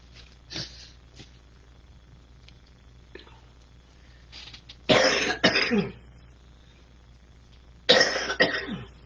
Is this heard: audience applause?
no